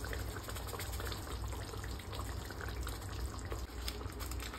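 Water boils hard in a cooking pot for ayam cili santan, a dense, continuous bubbling and hissing roil heard up close with no talking.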